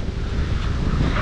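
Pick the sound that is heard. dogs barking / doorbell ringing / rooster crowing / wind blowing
wind blowing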